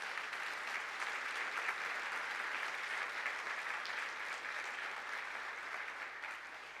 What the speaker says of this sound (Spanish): Si tú lo crees, dale un aplauso al Señor Jesús.